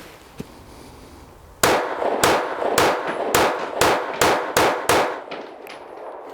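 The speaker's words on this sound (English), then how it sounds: "we're just going to do some headshot mag dumps" Savage Stance 9mm pistol fired in a rapid magazine dump from an 8-round magazine at a range, with about eight sharp, loud shots in quick succession after a quiet start.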